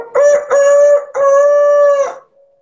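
A rooster crows loud and close in one drawn-out cock-a-doodle-doo, broken into three connected segments, with a faint tail fading afterward and no speech.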